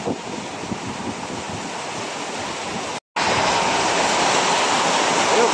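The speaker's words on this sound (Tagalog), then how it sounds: "Grabe, buhos ang ulan mga boss." Heavy rain pours down in a torrential downpour, a loud, dense, continuous roar with a brief dropout partway through.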